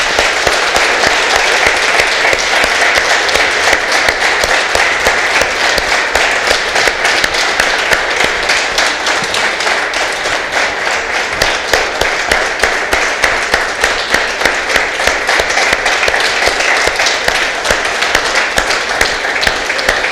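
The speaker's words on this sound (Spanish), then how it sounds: "Vamos a darle un aplauso a nuestro Dios." A church congregation claps steadily and densely for a long stretch, a full, even roar of hands filling the room with no talk over it.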